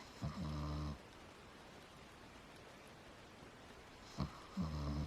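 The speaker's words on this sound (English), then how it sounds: "You hear him? He snores next to me." A dog sleeping inside a van snores softly, two slow, rasping breaths spaced several seconds apart, faint and close over a quiet hiss of background noise.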